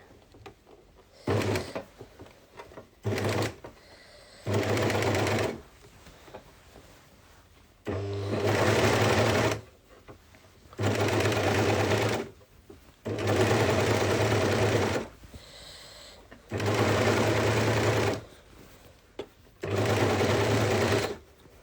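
A sewing machine stitching a dress with a tulle overlay, running in about six loud bursts of steady whirring separated by pauses while the fabric is fed, close by, with a voice speaking faintly between runs.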